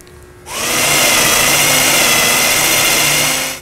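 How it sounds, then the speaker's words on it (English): A power drill with a 1/4-inch bit bores holes for a DIY overland rear drawer system, spinning up sharply after a quiet moment into a loud, steady high whine that holds for about three seconds, then cuts off. "We're going to drill those holes"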